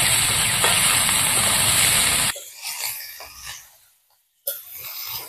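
Bottle gourd pieces hit a hot pan in a Bengali village kitchen, with loud, steady steam-like sizzling for about two seconds. The noise then cuts off abruptly and quieter scattered clatter and movement follow.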